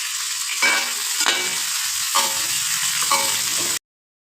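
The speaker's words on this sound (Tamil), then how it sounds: "ரெண்டு பச்சை மிளகாய் அது கூடவே சேர்த்துக்கலாம். வெங்காயம் நல்லா பொரிஞ்சிட்டோம்." Onions and green chillies sizzle and fry in a pan, a steady close hiss with several bursts of stirring scrapes, ending abruptly in silence.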